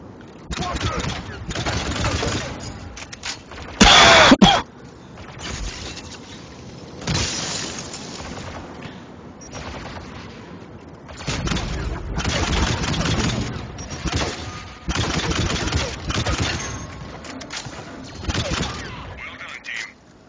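Rapid gunfire unloaded on a Pyro's fuel tank in Mass Effect 3 multiplayer, sounding as bursts of shots with a sharp shattering crack partway through. Players talk over the action.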